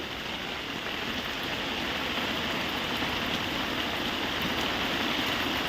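Heavy monsoon rain pours down on a farm, a dense, steady rushing wash that stays loud and unbroken throughout, with no voices.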